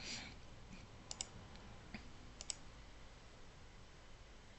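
Several light, sharp mouse clicks land close by and quietly, spaced out over a few seconds against a low background hum, with no talking.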